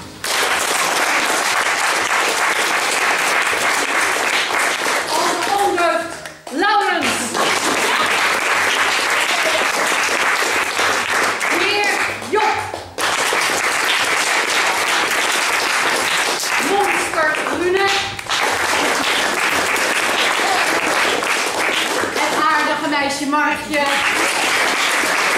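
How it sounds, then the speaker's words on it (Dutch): A large theater audience applauds loudly and steadily for the whole stretch, the dense clapping dipping only briefly now and then before surging again. "Dus ik wil extra applaus voor onze kanjer Tim."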